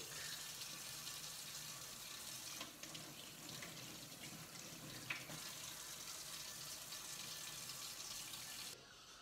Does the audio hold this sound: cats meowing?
no